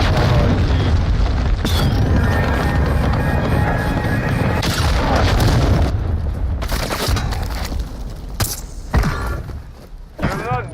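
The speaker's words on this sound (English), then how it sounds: "Hostiles launched a cruise missile." A cruise missile explosion in Modern Warfare 2, loud booming blasts and rumbling detonations with crashing debris and scattered gunfire-like pops, fading into sporadic bursts.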